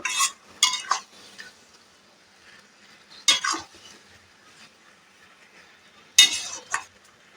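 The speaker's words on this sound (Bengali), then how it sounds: "পেঁপে সেদ্ধটা দিয়ে দিলাম দিয়ে এইভাবে নাড়াচাড়া করব" Boiled papaya being stirred in a pan for chutney, with three separate bursts of scraping utensil strokes spaced a few seconds apart over a quiet, faintly simmering background.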